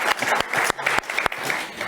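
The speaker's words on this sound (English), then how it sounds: "a round of applause for being honest" An audience breaks into a steady round of applause, dense clapping sustained throughout with a few brief dips, fairly close and loud.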